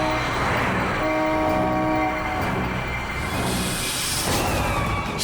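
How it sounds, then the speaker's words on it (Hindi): A vehicle horn honks again and again on a road, long sustained blasts at close range sounding loud over background traffic noise, with no voices. "हॉर्न पे हॉर्न मार रहा है"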